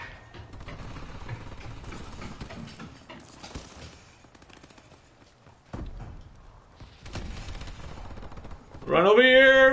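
Rapid gunfire and clattering action from the video game Call of Duty: Advanced Warfare rattle through much of the stretch, loud at first and then thinner. A bright rising electronic tone takes over at the end.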